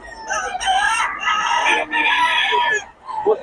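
Young roosters (stags) crow loudly and close at a gamefowl market in Bocaue, two or three overlapping drawn-out crows with a brief cluck at the end.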